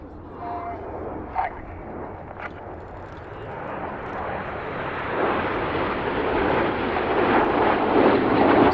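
Red Arrows jets fly in formation at the RAF Cosford airshow, a broad roaring jet rush that swells steadily louder as the formation approaches, with a commentator talking over it.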